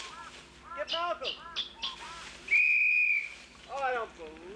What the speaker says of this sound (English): Play the whistle again!